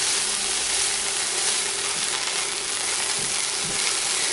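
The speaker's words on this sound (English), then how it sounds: "I'm going to leave them onions to cook a bit more." Onions frying in a pan for a Brazilian chicken pie, a steady close-up sizzle with a constant crackling hiss throughout and no talk over it.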